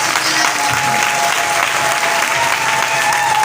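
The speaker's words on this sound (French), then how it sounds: "Non, acclame pour lui encore." A church congregation applauds loudly and steadily, a dense wash of clapping that fills the room for a few seconds without pause.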